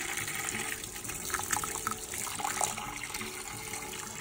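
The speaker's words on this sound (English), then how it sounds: "I'm gonna go ahead and add the water." Hot water is poured steadily into a large pot for a butter bean stew, a continuous splashing, gushing stream with brief brighter splashes, alone and fairly close.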